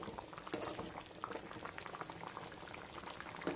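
Elephant foot yam tamarind stew bubbling steadily in a pot, a continuous soft simmer of small bursting bubbles and gentle gurgles at moderate distance, with no voices.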